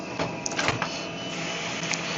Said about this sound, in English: Now the printer is connected and the wireless indicator confirming it. It's printing something.